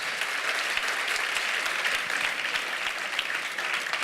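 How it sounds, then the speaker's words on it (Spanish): A church congregation applauds the Lord during a sermon, steady, moderately loud clapping from many hands with a soft rhythmic beat beneath, continuous throughout. "Dale un aplauso otra vez al Señor."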